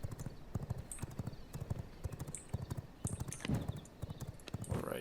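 Horse hooves clip-clop steadily in a survival crafting video game, a quick regular trotting rhythm at moderate volume with a few brief whinnies and game effects scattered through.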